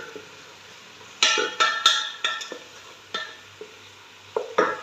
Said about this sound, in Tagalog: Nalagay ko na yung dinikdik kong bawang. Hinalo ko na siya sa sibuyas.